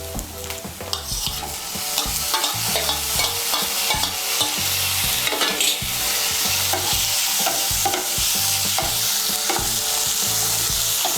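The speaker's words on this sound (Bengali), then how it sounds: "টমেটো কুচিটাকেও তেলের সঙ্গে মিশিয়ে নেব" Chopped large tomato frying and being stirred in hot oil with previously browned onions for a Bengali chana dal tadka, a steady close sizzle broken by repeated scraping stirs throughout.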